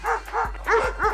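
Street dogs bark in a quick burst of three or four sharp, close barks and yips in just over a second.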